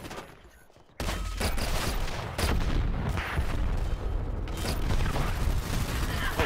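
A loud, close rattle of rapid gunfire in the video game Dirty Bomb breaks in after a quiet opening second, then continues in heavy sustained bursts with little pause.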